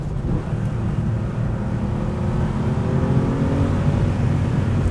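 A 1996 Porsche 993 Carrera 4S with a stock flat-six engine, a motor sound package intake and crossover pipes, drones steadily with a low throaty hum and a gently rising pitch while driving on a road, heard from inside the car.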